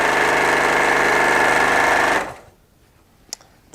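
Sewing machine stitching a quilt, a loud, steady mechanical whir that runs for about two seconds and then stops abruptly, followed by near silence with a couple of faint clicks.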